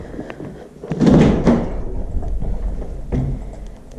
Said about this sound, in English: This shower door is a tiny bit wobbly.